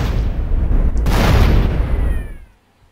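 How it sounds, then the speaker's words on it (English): A big explosion in the video game GTA San Andreas booms loudly with a deep rumbling blast that swells, holds for about two seconds and then fades out quickly. "Big explosion."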